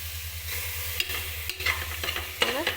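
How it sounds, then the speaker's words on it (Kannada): A spoon stirs soaked peas and salt around a cooking pot in a few quick scrapes and clacks against a faint sizzle, close and fairly quiet with no talking. "ಇದನ್ನು ಚೆನ್ನಾಗಿ ಮಿಕ್ಸ್ ಮಾಡಬೇಕು"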